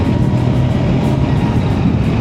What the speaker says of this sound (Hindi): भाई मेरे बाइक से भी बहुत ज़्यादा लाउड साउंड था उस स्कूटी का